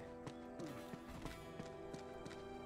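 Horse hooves clopping in the video game Uncharted 2, a steady run of moderate hoof strikes over a sustained tonal drone, with a brief whinny-like sliding tone early on.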